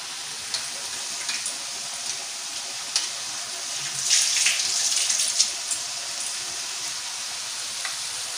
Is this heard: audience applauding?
no